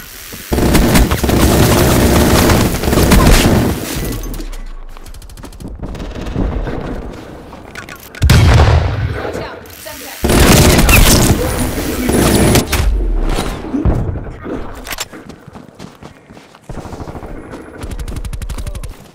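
Death Machine minigun in Black Ops Cold War multiplayer, loud sustained bursts of rapid automatic fire that stop and restart several times over about nineteen seconds, mixed with other gunfire and match noise.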